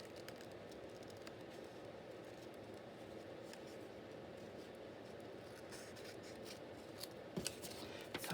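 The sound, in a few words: scissors fussy cutting paper for scrap journal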